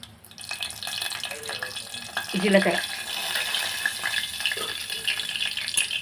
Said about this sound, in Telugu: ఆయిల్ హీట్ ఎక్కినాక ఆవాలు వేగాలన్నమాట